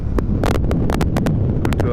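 Loud wind buffeting a microphone while riding a motorcycle on a windy day in Palmy, a steady roaring rumble broken by sharp gusty bursts and rattling thumps, close and continuous.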